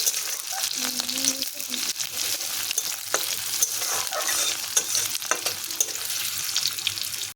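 Steady sizzling from ingredients frying in a pan for an okra dish, with frequent light scrapes and clinks of a spatula stirring throughout, moderately loud and close.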